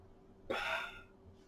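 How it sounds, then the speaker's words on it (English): A single short, loud burp bursts out from someone playing a game, rising abruptly and trailing off over about half a second against a quiet background. "Yeah, I burped."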